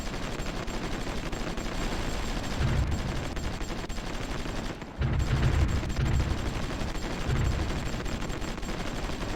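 Artillery fire in the strategy game Supreme Ruler Ultimate rumbles as a dense, continuous barrage of distant thuds and booms, with a few heavier bursts standing out mid-way.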